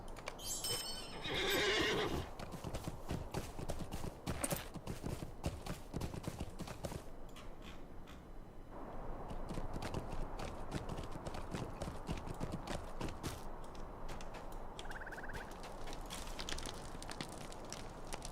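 A horse in the Lord of the Rings Online video game neighs loudly near the start, then its hooves clip-clop steadily and continuously over a dense, rushing background.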